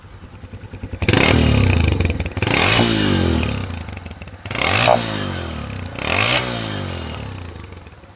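A Honda CG150 motorcycle engine revs loudly in four sustained blips, each rising and falling, with brief idle gaps between them and no talking.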